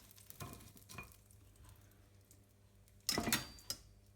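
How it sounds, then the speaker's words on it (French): Frying pan being degreased after searing veal, quiet clinks and scrapes of a utensil against the pan with soft sizzling, then a sharper louder burst of metal clatter and a last clink, close with no talk. "Bien, nous allons dégraisser la poêle."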